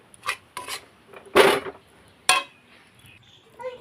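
Puffed rice being stirred into boiled milk in a pan with the gas turned off, giving several close, uneven scraping and rubbing strokes in short bursts, with no talk.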